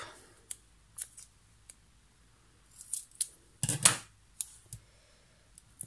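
Scissors snipping a square of 3D foam for card making, a series of short, sharp, close snips spaced unevenly, one longer crisp cut in the middle, in an otherwise quiet room.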